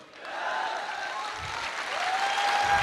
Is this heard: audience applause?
yes